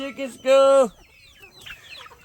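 Backyard chickens cluck close by, with one loud drawn-out squawk followed by softer scattered clucks, and a person talks over them.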